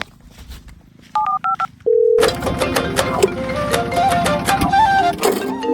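A telephone keypad beeps out a short run of dialing tones, then a longer steady tone sounds, followed by lively talk and background noise.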